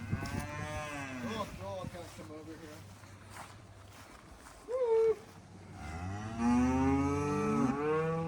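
Several cows moo loudly and close, long drawn-out calls spaced through the clip, with a person speaking briefly between them.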